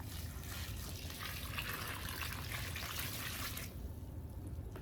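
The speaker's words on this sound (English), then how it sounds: "we're gonna add some water and stir it around." Water pours into a container of garden soil and potting mix, a continuous rushing splash that fades to a softer trickle near the end, close and steady with no talking.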